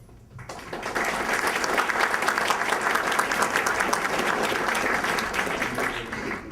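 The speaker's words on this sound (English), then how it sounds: "Would the members please stand and receive our applause?" An audience at a university merit awards ceremony breaks into steady applause for the selection committee, dense clapping that starts abruptly after a quiet moment and continues evenly throughout.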